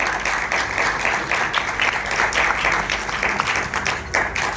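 Sustained applause from an audience at a Pakistani film launch ceremony, dense and steady clapping throughout, moderately loud with no talk over it.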